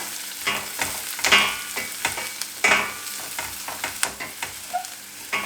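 Chopped onion goes into hot oil with browning garlic for a green peas stir-fry, crackling and sizzling close up as a spatula scrapes and turns it in uneven bursts.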